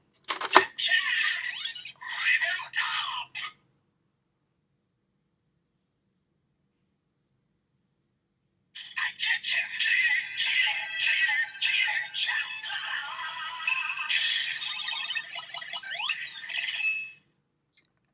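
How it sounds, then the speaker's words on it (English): A Kamen Rider Ex-Aid DX Gashat toy plays its electronic level 3 sound effect, a bright, tinny burst of synthesized tones and voice, then a pause, then a longer burst from the toy speaker. "that was the level 3 sound effect for the Rider Gashat"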